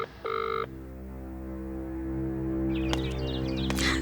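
An unanswered telephone rings once as a short, bright electronic tone, followed by a steady low hum and faint chirping background with no one picking up.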